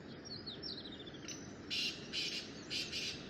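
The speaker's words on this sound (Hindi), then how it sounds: "यहाँ सामने पे तीतर पक्षी की आवाज़ आ रही है" A partridge gives several short, harsh calls in quick succession, fairly distant, after a faint thin trill in an open outdoor setting.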